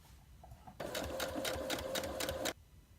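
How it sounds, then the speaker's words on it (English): A sewing machine runs steadily for nearly two seconds, stitching quilt rows together for a quilt-as-you-go project, its fast, even mechanical whir loud and close after a quiet start, then stopping abruptly. "So I'm going to go ahead and sew this up just like I did when I joined my blocks."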